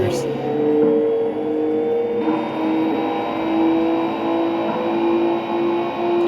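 A car engine in the Xbox 360 racing game Import Tuner Challenge drones and revs steadily with whining gear tones rising and shifting, while a voice talks over it throughout.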